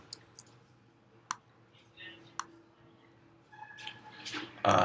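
A computer mouse clicks a tab on a web page: several light, scattered clicks close by, with faint voice sounds and a louder burst right at the end.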